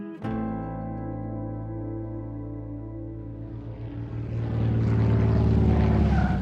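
A propeller plane carrying Hitler and Eckart coming in to land, its steady droning engine hum holding evenly before swelling into a louder, rougher roar of rushing noise toward the end.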